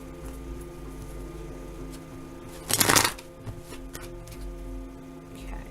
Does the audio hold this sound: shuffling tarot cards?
yes